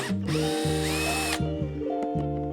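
A power drill drives screws during a BMW E46 repair, whirring loud and close in several short bursts with its pitch rising and falling as it starts and stops.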